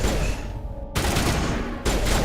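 Gunfire in the video game Mass Effect rattles out in dense, loud bursts of rapid shots, broken by a brief lull before resuming.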